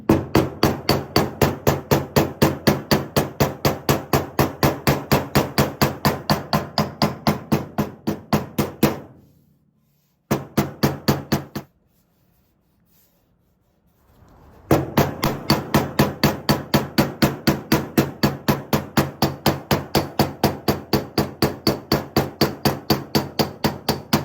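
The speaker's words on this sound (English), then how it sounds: "tap it lightly with the hammer and see if we can get that to conform to shape" A hammer taps lightly on steel wrapped in a towel, shaping an aftermarket car body panel: rapid, evenly spaced taps run long and steady, stop for a few seconds with a short burst in the gap, then resume at the same pace.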